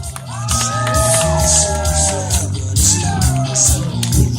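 An audience at a martial arts performance at the 2014 Grange Fair cheers and makes noise, with rising whoops and shouts over a loud crowd roar and some talk mixed in.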